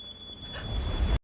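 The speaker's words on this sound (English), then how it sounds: "the stolen item sets off the security alarm" A shop's thin, steady high-pitched electronic security alarm tone sounds over a growing low rumble of noise, then cuts off abruptly.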